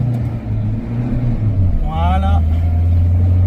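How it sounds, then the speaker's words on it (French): A 1965 Citroën DS 19 Pallas gently accelerates, its engine a steady low drone with a slight rise in pitch, heard from inside the car while people talk briefly over it. "Et là, on accélère un petit peu,"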